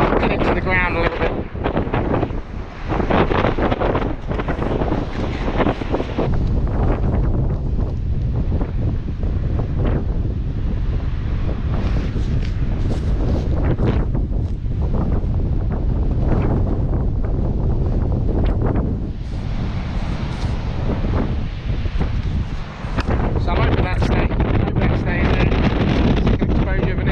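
Heavy wind buffets the microphone in loud, rumbling gusts throughout, with brief lulls and a faint voice underneath.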